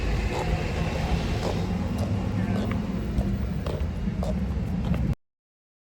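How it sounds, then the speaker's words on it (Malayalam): Steady low rumble of a moving train heard from inside, with faint rattles and clicks, cutting off abruptly near the end. "ഞാൻ ദേ ട്രെയിനിൽ കയറി"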